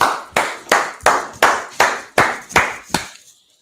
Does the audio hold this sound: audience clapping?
yes